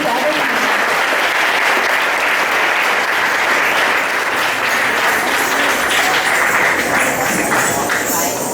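School audience at a Hindi Bhasha Diwas celebration applauding loudly and continuously to welcome a dance performance by class 5 and 6 girls, dense steady clapping throughout.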